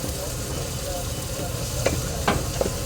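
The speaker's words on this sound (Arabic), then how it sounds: "بصوا عندنا بنحمر البصله كده اهو" Chopped onions fry in oil at a street liver-sandwich cart, a steady close sizzle with occasional stirring scrapes and clinks, no talking.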